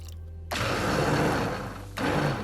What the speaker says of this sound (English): fill it up with water and blend it